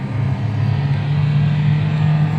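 A 2014 Toyota Vios with manual transmission and Blackcore tuning accelerates hard from first straight into fifth gear, a loud steady engine drone with a low rumbling hum held close and continuous, no voices.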